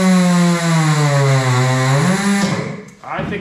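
Motor of a Coats rim-clamp tire changer runs loud and strong, a steady droning whine that holds for about two seconds and then winds down and cuts off.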